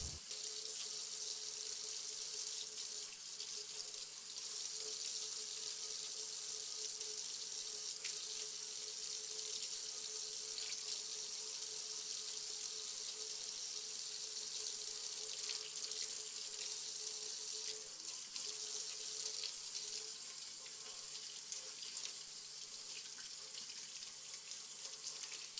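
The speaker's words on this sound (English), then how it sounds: "Use soap, run warm water over your hands, and lather the soap for at least 20 seconds." Warm water runs steadily from a tap over hands being washed, a soft continuous hiss and splash at low level with no talking.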